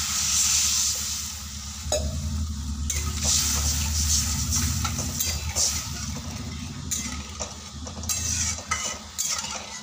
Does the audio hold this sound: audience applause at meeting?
no